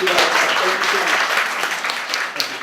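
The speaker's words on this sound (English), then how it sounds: "a great hand of applause to a wonderful and generous..." Applause from an audience greeting a speaker, dense and steady throughout, with faint voices underneath.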